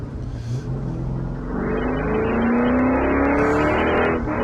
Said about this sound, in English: oh my goodness, these cars sound so good